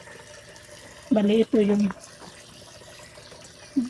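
Water runs from its source into a homemade hydroponics setup, a steady low wash of flow heard beneath someone speaking Filipino close to the microphone.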